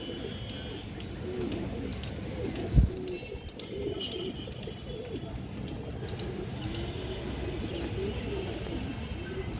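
Pigeons at a pigeon farm coo in low soft repeated calls beneath steady background noise, with one brief sharp knock partway through.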